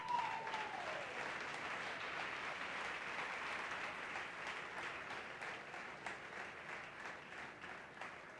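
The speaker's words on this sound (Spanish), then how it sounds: "Dale un aplauso al Señor, pues." A church congregation applauds steadily during a Sunday worship service, the clapping sustained and even throughout, moderately distant, with a brief tone at the start.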